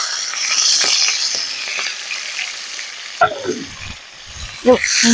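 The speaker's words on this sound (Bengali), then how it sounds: "তেল গরম হয়ে গেছে, চিংড়ি মাছগুলো এবার দিয়ে দেবো" Prawns fry in hot oil in a pan, giving a continuous close, bright sizzle, with a few sharp clinks and scraping sounds from stirring toward the end.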